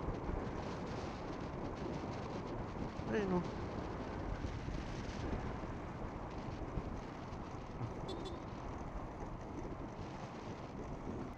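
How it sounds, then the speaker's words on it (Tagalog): Strong, steady wind buffets the microphone while riding a scooter along a rural stretch of the Cavite East-West Road, a continuous broadband roar from start to finish with someone speaking briefly over it. "lakas ng hangin."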